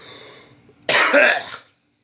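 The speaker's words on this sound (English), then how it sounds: "I wish I could clear my throat" A single harsh, close throat clearing bursts out after a faint murmur, lasting under a second before silence.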